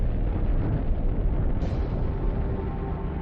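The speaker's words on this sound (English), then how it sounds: "This is a gamma-ray burst, the biggest explosion to rock the universe since the Big Bang." A gamma-ray burst explosion effect for a space documentary: a loud, sustained roaring rumble that fills the whole stretch, dense and low, with a brief bright crackle midway and no speech.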